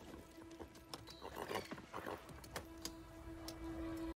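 Hooves clatter in a quick, uneven gallop while a horse whinnies, heard faintly from a scene in the film Nope, with no talk over it.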